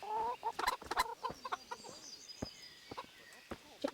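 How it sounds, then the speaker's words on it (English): Chickens cluck repeatedly in the medieval village setting of Kingdom Come, with sharp, irregular bursts of fowl calls spread across the clip at close range. "Chicken, chicken, chicken, chicken."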